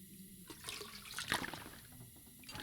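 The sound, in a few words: collecting water in video game The Long Dark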